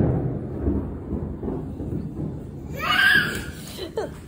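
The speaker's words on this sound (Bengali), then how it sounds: "হালকা ঝোড়ো হাওয়া সাথে মেঘ ডাকছে তো বটেই" Thunder from a storm with light gusty wind rolls low and deep for a few seconds, then fades as brief voices and a short laugh come in near the end.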